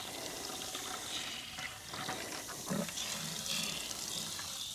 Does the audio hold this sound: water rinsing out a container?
yes